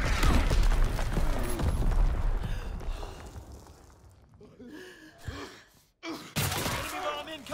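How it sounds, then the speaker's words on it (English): Mortar explosions in the World War II shooter Call of Duty WW2: heavy, loud booming blasts and rumbling debris at the start, fading, then a sharp new impact near the end, with gasping and groaning voices mixed in. "Enemy mortar fire incoming."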